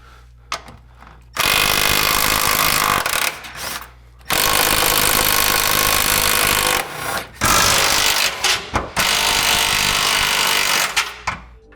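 A Milwaukee M12 impact wrench runs in long loud bursts on MK6 GTI rear chassis brace bolts and nuts, rattling steadily with short gaps between each run.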